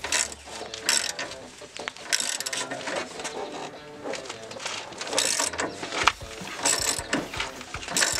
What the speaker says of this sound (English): I put my 3/4 socket on here and I start to tighten it down